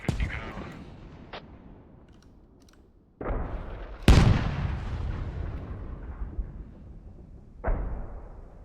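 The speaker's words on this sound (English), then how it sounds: "The tank is trying to take some long shots. They're using it as a artillery piece right now." Tank in the game Squad fires long-range shots during a tournament match. Several heavy booming cannon blasts, one especially loud and close, each followed by a rumbling decay over faint background gunfire, with no talk.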